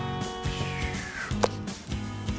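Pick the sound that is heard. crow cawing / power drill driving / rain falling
crow cawing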